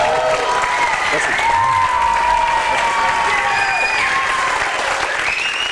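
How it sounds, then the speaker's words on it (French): A studio audience on a French talk show applauds a newly introduced guest, steady dense clapping throughout with cheering voices riding on top, loud and close. "Je reçois maintenant le deuxième invité, Michael Damouron, pour l'applaudir"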